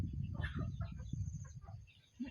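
Farmyard chickens clucking in short, irregular bursts at close range, with soft rustling and low background noise throughout.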